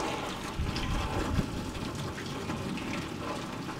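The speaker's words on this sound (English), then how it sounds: "look at all that water down there too." Heavy water flowing and rushing during a torrential squall line rain storm, a steady broadband wash with some louder gushes near the start, continuous throughout with no talking.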